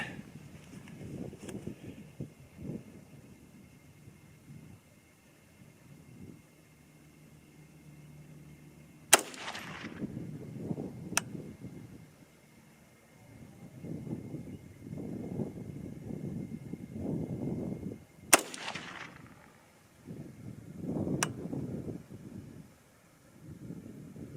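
Two sharp 6.5 Grendel rifle shots with Hornady 100-grain ammunition fired outdoors, spaced well apart, each a loud crack with a short echo over gusty wind rumble.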